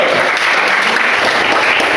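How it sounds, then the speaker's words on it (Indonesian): Classroom applause as pupils clap together for a classmate, a dense, steady patter of many hands that stays loud and even for the whole moment, with faint voices mixed in. "Tepuk tangan buat Sipa, betul"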